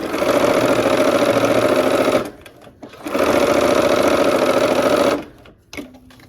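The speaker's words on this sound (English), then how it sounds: "now I'm going to stitch down the side, the last seam of this block" A sewing machine stitches a quilt block seam in two loud, steady runs of fast needle hum, each stopping abruptly with a brief quiet pause between.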